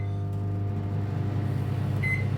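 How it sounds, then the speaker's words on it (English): A microwave oven hums steadily and loudly while melting mozzarella cheese, with a short, high beep near the end. "we're just going to melt this mozzarella cheese in the microwave"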